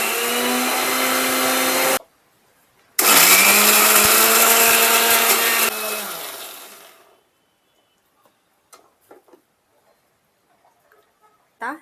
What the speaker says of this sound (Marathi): मिक्सर लावून घेऊया।